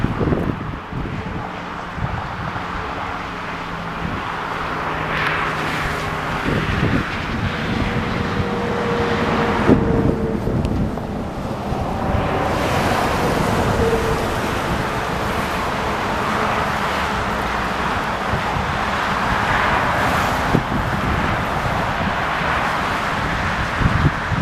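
A Falcon 7X tri-jet taxis at Visalia airport, California, its engines giving a steady broad roar mixed with wind buffeting on the microphone, fairly close and continuous throughout.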